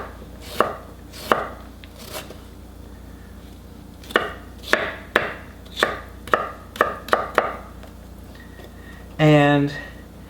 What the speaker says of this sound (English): I think what I want to do with mine is just continue on this julienne frenzy here.